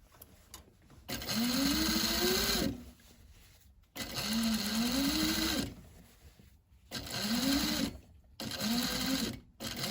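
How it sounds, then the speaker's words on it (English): A sewing machine stitches a fabric bag in four sustained runs, its motor whine rising in pitch as each run speeds up, with brief quiet gaps between. "And do a little back tack over the stitches and you reach the other end."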